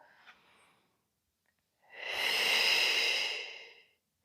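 A slow, steady exhale during a lower back and hip mobility stretch in a runners' recovery session, close and breathy, preceded by a faint softer breath and a pause.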